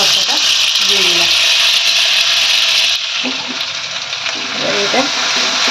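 Mashed ridge gourd peel hits hot oil in a pan and fries with a loud, steady sizzling hiss, while someone talks over it.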